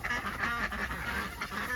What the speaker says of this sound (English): You see the ducks have gone back out.